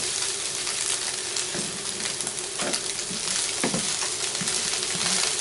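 Spam, scrambled egg and mushrooms fry in a pan with a loud, steady sizzle, close up, broken by occasional clinks and stirring scrapes.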